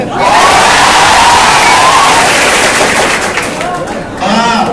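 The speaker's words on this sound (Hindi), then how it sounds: "एक बार जोरदार ताली बिहार शरीफ के" A large seminar audience claps and cheers loudly in a dense, sustained burst, with shouts rising out of the applause before a voice cuts in.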